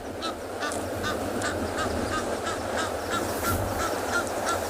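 Geese honking repeatedly in a steady series of nasal calls over a constant outdoor wash of background noise, at a penguin beach enclosure.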